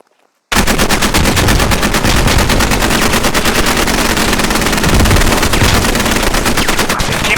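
Sustained automatic gunfire from a live-fire exercise in the military shooter game Squad: after a brief silent start, loud, dense rapid bursts pound without letup, overlapping shots that sound close and intense.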